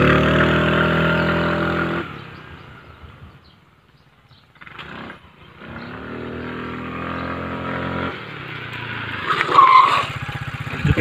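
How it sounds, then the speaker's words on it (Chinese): A motorcycle swung and skidded sideways into a parking spot between two other bikes, its engine revving loudly and tires scrubbing in a sustained burst, then a brief lull before a second loud rev and skid. "如果有两台摩托车停在这里，然后你可以直接把它甩进去"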